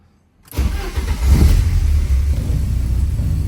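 A Porsche 944 daily driver with a fault that keeps it from revving above 3000 rpm starts up abruptly and runs in neutral, a loud, close, uneven engine note that swells as it is revved roughly, then holds.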